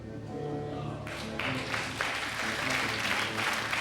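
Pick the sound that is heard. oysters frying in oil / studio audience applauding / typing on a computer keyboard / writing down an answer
studio audience applauding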